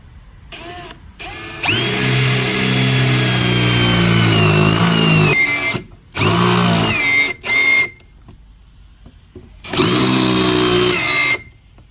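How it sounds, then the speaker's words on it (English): A power drill bores a hole in the plastic intake pipe of a Jeep Wrangler, a loud, close whine that holds steady for about four seconds, then two short bursts, a pause and a final sustained run. "Next step is to go ahead and drill a hole."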